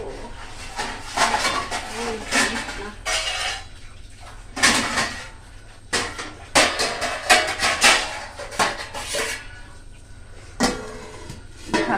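A lid is set onto a cooking pot of potatoes boiling in water in a home kitchen, giving scattered metallic clanks and knocks of cookware at close range, some sharp and some softer, spread irregularly through the stretch.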